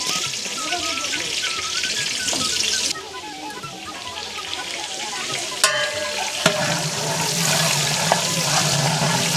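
Sliced onions frying in hot oil in a village-style kitchen, readied for browning biryani meat: a steady, loud sizzle with stirring scrapes and a few sharp clinks of a utensil against the pot.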